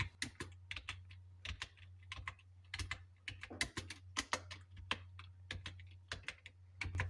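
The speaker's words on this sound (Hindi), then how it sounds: "आपको इसको टाइम देकर चलना है और आराम से टाइपिंग करते रहनी है" Steady typing on a computer keyboard during Hindi Kruti Dev lower-row practice, with quick irregular key clicks in bursts across the whole stretch over a low constant hum, no voices.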